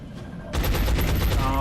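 Rapid gunfire erupts in the XCOM: Enemy Within video game, a loud close burst of repeated shots after a brief quieter lead-in.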